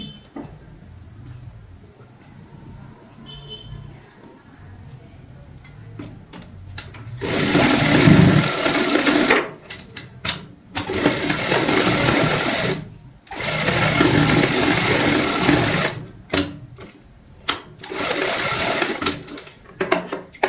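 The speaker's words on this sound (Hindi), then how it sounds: "हमने 3 साइड में यहाँ पे सिलाई लगाई है" Sewing machine stitching three sides of a doormat made from old cloth, running in loud steady bursts with brief stops between seams, quiet handling before the first run.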